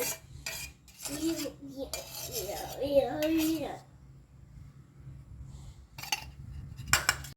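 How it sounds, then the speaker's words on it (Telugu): A spoon stirs milk mixed with milk powder in a metal pot, giving intermittent scraping and clinking strokes close by. Voices talk over part of the stirring. "పాలల్లో పౌడర్ని కలిపి ఈ పాలల్లో వేసిన కాడ నుంచి కలుపుతూనే ఉండాలండి లేకపోతే అడుగంటుతుంది"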